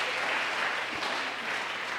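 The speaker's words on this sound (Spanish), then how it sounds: "¿Cuánto le damos un aplauso fuerte al Señor?" A congregation in church claps in a dense, even wash of applause, steady and moderately loud for the whole stretch.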